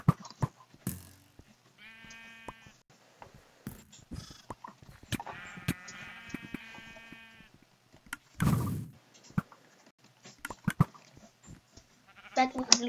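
Sheep bleat in a blocky video game sheep quest: a few drawn-out, wavering bleats stand out among sharp clicks, thumps and game noises, with faint voices in the background.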